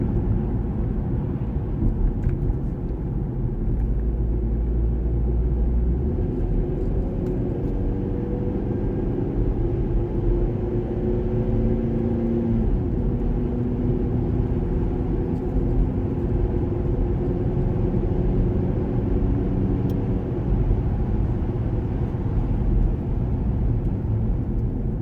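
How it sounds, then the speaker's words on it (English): Vauxhall Astra J with a harsh-downshift gearbox fault, driven at 50 to 60 mph while a downshift is forced, giving a steady low engine and road rumble from inside the cabin with no clear jolt. "Let me force it to downshift now."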